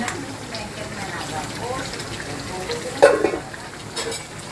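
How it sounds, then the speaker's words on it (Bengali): Fried fish and eggplant sizzling in a pan as they are stirred together during curry cooking, a steady close hiss with a brief louder scrape of stirring midway. "এই যে ভাজা মাছগুলো এখন দিয়ে দিব।"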